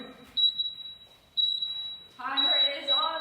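Workout interval timer sounding steady electronic beeps, a few short tones repeating over about three seconds, with a coach's voice talking over the last part.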